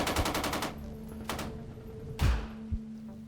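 Machine gun fire in an audio drama: a rapid burst of shots followed by a few single cracks and heavy thumps, moderately loud against a faint background hum.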